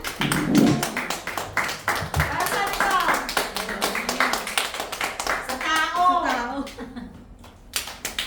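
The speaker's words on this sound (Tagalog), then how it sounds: "Palakpakan nga natin ang Panginoon!" A congregation at a Friday worship service claps in quick, steady rhythm throughout, the applause running under a woman's lively spoken exhortation from the front.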